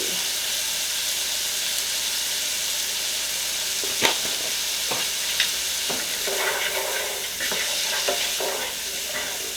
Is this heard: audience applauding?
no